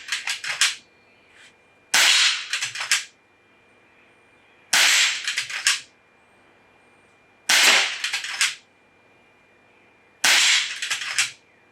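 Shots from an FX M3 air rifle ring off backyard steel targets in five sharp bursts, each a crisp crack followed by a quick clattering metallic ring. The bursts come at fairly regular intervals with quiet gaps between them, and no one speaks.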